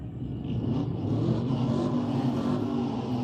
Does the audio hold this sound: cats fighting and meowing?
no